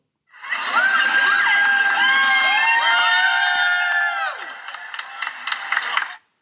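Group of people at TwitchCon cheering and shouting together, a loud sustained burst of excited whoops and yells that fades into scattered cries and a few claps.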